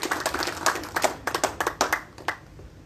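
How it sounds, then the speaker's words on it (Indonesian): Rhythmic group clapping at a public draw of candidate numbers for regent and deputy regent of Merauke, sharp close handclaps in uneven bursts that thin out toward the end. "Tepuk tangan yang keras."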